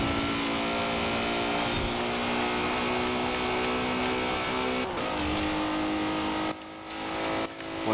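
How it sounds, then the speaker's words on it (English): A Ferrari engine screams at full throttle in Forza Horizon 4, a steady high-pitched wail held flat out and loud throughout, with a brief dip and tire noise near the end. "This is just flat out now. This is flat out in this Ferrari."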